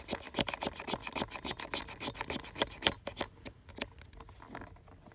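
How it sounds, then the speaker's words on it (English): A high-speed steel striker scrapes fatwood into tinder in quick, repeated rasping strokes, close and crisp, in a rhythmic run that thins out toward the end. "So we're going to shave that off into a pile."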